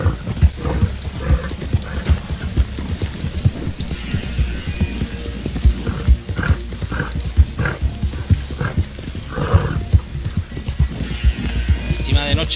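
Horse hooves pound in rapid irregular rhythm during a night ride in Red Dead Redemption 2, close and loud with occasional snorts, while someone talks over it throughout.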